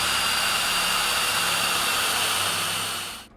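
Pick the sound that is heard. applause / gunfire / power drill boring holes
power drill boring holes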